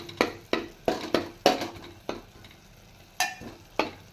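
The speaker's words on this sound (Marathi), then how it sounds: "त्या तुपामध्ये 1 चमचा मी इथं खसखस परतून घेत आहे." Poppy seeds roasting in ghee in a pan, with a series of sharp stirring scrapes and light sizzling at an irregular beat, close and clear with no talk.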